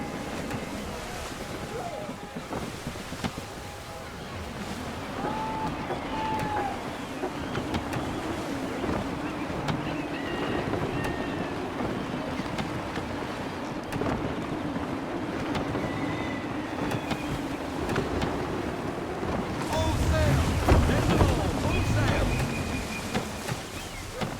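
A sailing ship cuts through the sea in Assassin's Creed III, with a steady rush of wind and waves and a surge of surf near the end. Voices come and go over the roar.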